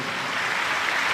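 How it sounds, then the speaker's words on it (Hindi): Broad, even wash of applause from a large religious gathering at a live Shiv Mahapuran katha, steady and moderately loud for a brief moment with no voices over it. "जोरदार ताली की गर्जना होना चाहिए"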